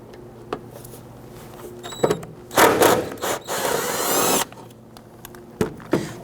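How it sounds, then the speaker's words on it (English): A 10mm bolt is worked loose from the coolant reservoir of a 2005-2021 Nissan Frontier 4.0L V6, with short mechanical bursts of tool noise and a longer rattling whir, scattered clicks between, close by with no talk. "we're going to go ahead and remove this 10mm bolt right here"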